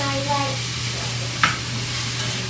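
Bacon and vegetables sizzle in a pan as they are mixed back together, a steady close frying hiss with a brief stir clack midway and a faint hum beneath.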